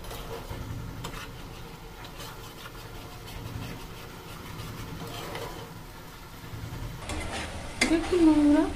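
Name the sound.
stir-frying spice paste with tomato paste for fish curry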